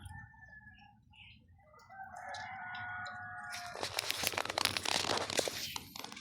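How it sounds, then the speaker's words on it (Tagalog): Pet chickens cluck and chirp faintly at first, then a loud rustling, crinkling burst of feed or bag noise takes over as the birds crowd in to be fed. "Pakain muna tayo ng mga alaga nating manok."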